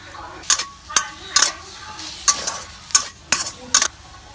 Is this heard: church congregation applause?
no